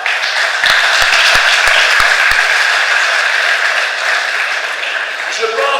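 Sustained applause from a crowd, loud and steady, with a few sharp individual claps standing out near the start.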